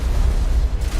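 A rocket explosion in Mass Effect lands as a deep, close rumbling boom that rolls on for about a second, heavy and low.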